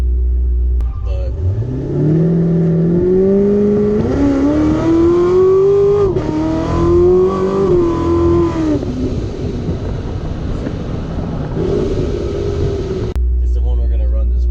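A 1040-horsepower Z06 Corvette, a new street car, pulls hard at part throttle, its engine note climbing and sweeping in pitch for several seconds before easing off, loud and close throughout, with people talking over it.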